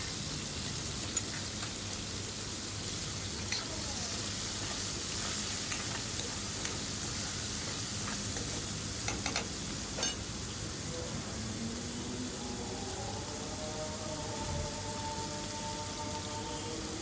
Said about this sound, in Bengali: এতে মাংসটা ভালোভাবে ফ্রাই হয়ে যাবে।